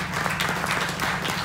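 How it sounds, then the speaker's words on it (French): Brief, steady applause from an audience at a press conference for the E-Trophée Andros 2020 electric ice-racing series, a continuous patter of many hands. "Donc on va applaudir Benji."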